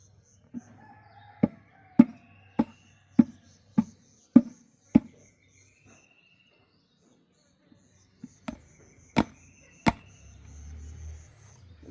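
In a rural African village, chickens cluck in a run of sharp, regular bursts, then a rooster crows a few times, with a low rumble rising at the end.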